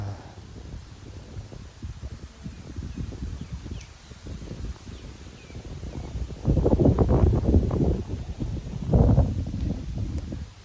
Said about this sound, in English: The wind is really, really strong now.